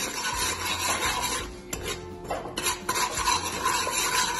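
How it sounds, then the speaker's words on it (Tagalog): A masala mixture being stirred in a pan during Christmas cooking in India, scraping and rubbing of a utensil against the pan in irregular strokes with a faint sizzle beneath, close and alone. "And then, halu-haluin mo lang siya."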